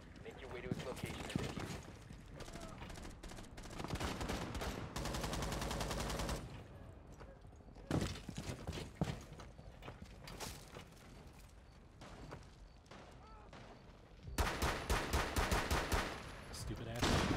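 Rapid gunfire in a Rainbow Six Siege match, with bursts of sharp, loud shots that come in clusters, including fast strings of reports, broken by quieter gaps. Players talk under the shooting.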